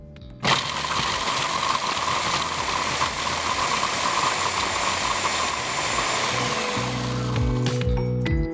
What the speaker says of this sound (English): what I'm going to do is pulse my mixer to make a fine kind of